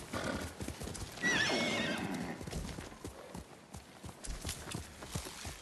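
Horse in Ghost of Tsushima galloping with rapid clip-clopping hooves and a loud, shrill neigh early on, followed by continued hoofbeats at close range.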